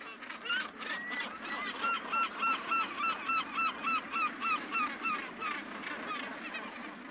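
A huge gannet colony of more than 100,000 birds packed onto a rock calls nonstop, with dense overlapping harsh cries pulsing in a steady rhythm against a constant roar of the crowd.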